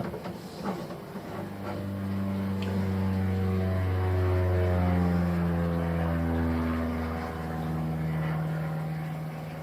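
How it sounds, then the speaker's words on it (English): A private propeller airplane passes overhead, its steady engine drone rising and falling in pitch as it goes by, loud and continuous throughout. "we'll wait for the plane to go past first."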